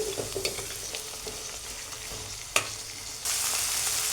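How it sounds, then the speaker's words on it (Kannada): Tomatoes fry in a pan for tomato chitranna with a steady close sizzle, a few light utensil knocks and a sharp clack, then the hiss swells suddenly louder near the end. "ಈಗ ಟೊಮೆಟೊ ಒಂದು ಸ್ವಲ್ಪ ಮೆತ್ತಗಾಗೋ ತನಕ ಹುರ್ಕೊಳ್ಳೋನು"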